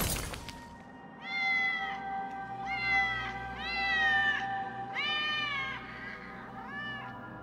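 Several kittens in the video game Batman: Return to Arkham City mew in a string of high, rising and falling cries after a brief sharp noise, close and clear over a low hum, with no talk.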